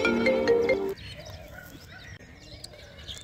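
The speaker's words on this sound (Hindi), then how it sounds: "अरे यार, इसको अभी ये फोन आना था।" A phone ringtone plays loudly up close in a comedy cartoon, a bright repeating electronic tone lasting about a second before it cuts off, followed by faint background noise.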